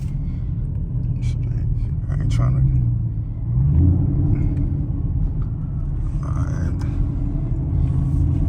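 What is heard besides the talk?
Custom Camaro 2SS engine rumbling while driving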